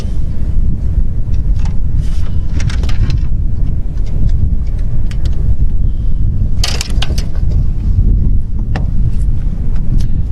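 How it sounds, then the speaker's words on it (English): Steady, loud wind gusting across a lake during crappie trolling from a boat, buffeting the microphone with a constant low roar and a few scattered knocks and clatters. "But the wind's picking up a little bit now."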